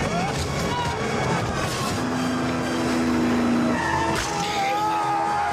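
A car in a 1999 action-adventure film drives fast and skids, tyres squealing briefly amid engine roar and loud film soundtrack, with people talking over it.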